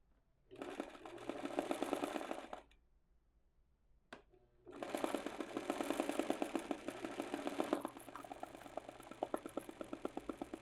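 A sewing machine stitches a free motion embroidery outline of flowers on a shirt: two runs of quiet, rapid needle chatter split by a short pause, the second run slowing to a lighter pulsing stitch, close up with no talking.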